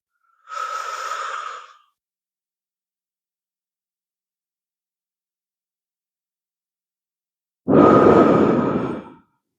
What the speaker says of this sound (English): take a deep breath in, hold it for 3, and let it out for 3 as well